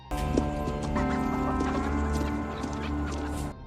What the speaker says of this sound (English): After several failed attempts to mount his horse, William finally succeeds and rides off to Ned's home